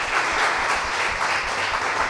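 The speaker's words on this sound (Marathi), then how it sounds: "आपण परमेश्वराला टाळ्या वाजून धन्यवाद देऊया" Steady applause from a congregation at a Sunday church service, many hands clapping evenly throughout in a fairly loud, continuous wash.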